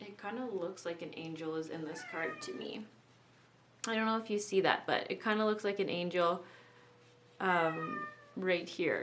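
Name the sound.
domestic cat meowing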